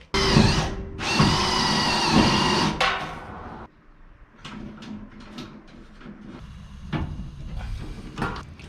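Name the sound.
drilling and installing rivet nuts on car body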